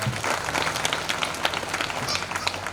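An audience at a kavi sammelan poetry gathering claps and cheers, a dense wash of applause from a crowd, loud and sustained throughout.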